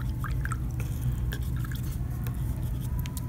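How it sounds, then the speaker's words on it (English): A paintbrush wiped and rinsed in a water container while painting with tempera, giving close small drips, splashes and light clinks over a low steady background hum. "So now I'm going to wipe my brush off before I rinse out in the water."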